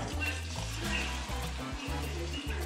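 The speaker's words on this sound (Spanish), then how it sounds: "Ok, mi gente, miren, le vamos a echar agua." Water is poured into a pot of Puerto Rican rice with chickpeas, giving a steady broadband rush and splash close by with no break.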